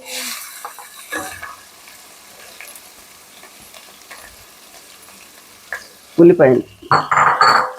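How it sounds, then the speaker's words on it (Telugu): Onion frying in a pan with ginger, garlic, cardamom and cinnamon, with quiet soft sizzling and stirring that grows into louder, busier bursts of frying near the end. "ఉల్లిపాయ లైట్ బ్రౌనిష్ వచ్చే వరకు వేయించుకోవాలండి మనం."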